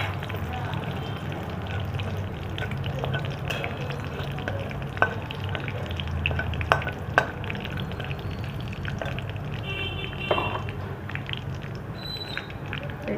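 Cinnamon pieces, bay leaves and cracked green cardamom pods fry in hot oil for tempering, a steady close sizzle broken by occasional stirring scrapes and clicks.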